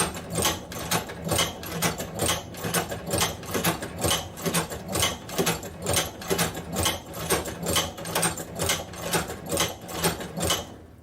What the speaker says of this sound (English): And then again, we'll continue sewing.